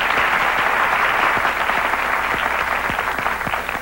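Talk show studio audience applauding, a loud, dense and sustained burst of clapping from a large crowd, holding steady throughout.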